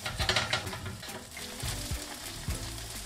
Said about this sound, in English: you can see the kebabs are nice and sizzling